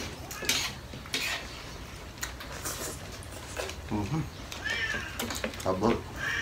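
A house cat meows several times near a meal of sinigang and kinilaw, with dishes and cutlery clinking and people talking throughout.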